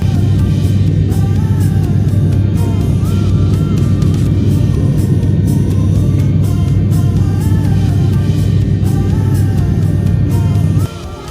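Steady, loud, droning cabin rumble inside a small passenger airplane in flight on a domestic Philippine route, continuous low engine hum with faint voices murmuring underneath, cutting off abruptly near the end.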